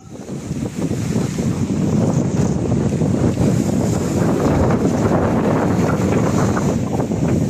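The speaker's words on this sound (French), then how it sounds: "il y a encore du vent" Strong wind roars steadily across the microphone at the beach between Salou and Cambrils, loud and continuous, with a low rushing rumble throughout and no one speaking.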